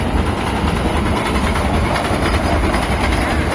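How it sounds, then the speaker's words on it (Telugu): A Vande Bharat express train rushes past a railway station platform with a continuous loud, broadband roar and rolling rumble throughout, close by and steady, with no voices over it. "వందే భారత్ వెళ్తుంది, చూపిస్తాను ఆగండి"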